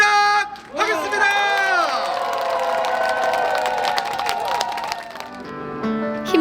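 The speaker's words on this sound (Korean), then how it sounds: "여러분의 큰 박수와 함성으로 시작하겠습니다" Audience applause and cheering open a senior citizens' cultural day concert, a loud crowd roar blending with music and bright tones that hold for several seconds before tapering off.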